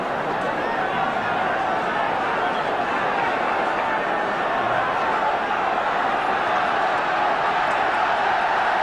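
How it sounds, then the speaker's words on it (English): A large football crowd at Carrow Road roars steadily behind Norwich during a 1978/79 Division match against West Brom, a dense, continuous wall of cheering and chanting that holds at one level throughout. "Tremendous backing from the Carrow Road crowd now for Norwich."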